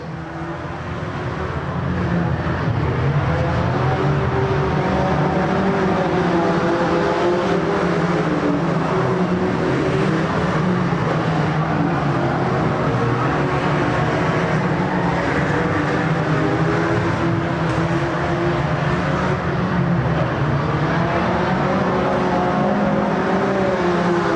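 Race cars circling a short oval track late in a race with seven cars left: a continuous, loud, droning roar of engines that stays dense and steady for over twenty seconds, with no talk over it.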